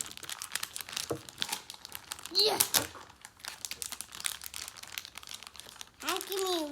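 Crinkling plastic wrapper of a Dutch Bros blind pack being handled and opened, with crackly bursts throughout while someone talks nearby.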